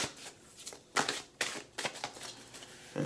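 Someone shuffles an Avalon Oracle card deck, close up, with a string of crisp riffling and snapping bursts at an uneven rhythm.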